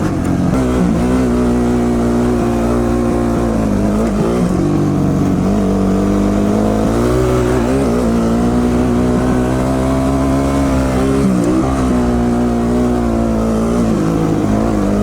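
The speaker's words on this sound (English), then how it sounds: "Those Duke boys grabbed themselves a handful of throttle" Off-road vehicles including Duke motorcycles and a WR250R at the Durhamtown Off-Road Resort, revving loudly and accelerating hard on the throttle, their engine note rising and falling continuously and close throughout.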